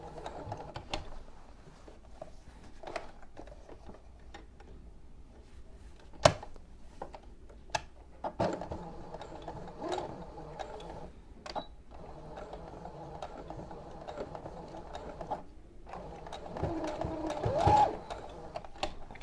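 A home sewing machine stitches a baby pillowcase dress, its needle chattering in quiet bursts with pauses and sharp clicks between runs, close and fairly soft.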